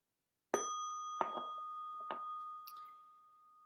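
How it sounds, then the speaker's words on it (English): A meditation bell is struck about four times in a quiet room, each ding bright and clear, its sustained ringing tone overlapping and slowly fading. "we're just going to ding the bell one more time"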